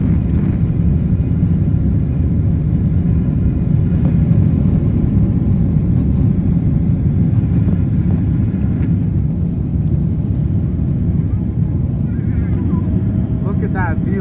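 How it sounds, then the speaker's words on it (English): Delta Boeing 767-400ER taking off from JFK, heard from inside the cabin as a steady, loud engine and airframe rumble that holds for the whole stretch, with a voice talking over it. "right now we are on Delta Airlines Boeing 767-400ER. We're taking off from JFK and we're landing at Nice"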